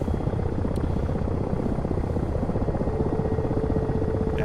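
Ka-50 helicopter in a flight simulator, coaxial rotor thumping steadily under a loud continuous turbine drone throughout, close and unbroken, no talk.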